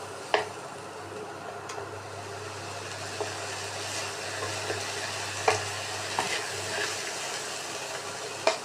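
Chopped onion, tomato, green chilli and coriander leaves stirred and fried in a pan for garlic-sauce pasta, a steady low sizzle with occasional scraping clicks of a utensil, fairly quiet and with no talk.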